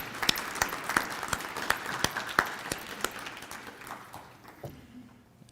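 Audience applause at a college foundation donor appreciation and scholarship celebration, with many sharp individual claps standing out over a fuller wash before the clapping thins and fades away near the end.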